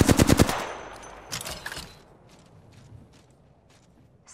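Gunfire in the Apex Legends video game: a rapid burst of loud automatic shots up front, then a few more scattered shots and distant pops fading into quieter background.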